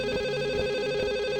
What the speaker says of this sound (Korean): 전화가 울립니다.